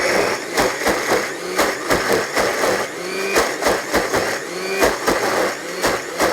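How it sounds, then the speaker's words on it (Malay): A blender grinds dal lentils down finely, its motor whirring loudly in a pulsing rhythm of repeated surges and brief dips as the blades chop through the batter, with no voices. "Akan kisar kacang dal ini sehingga betul-betul halus."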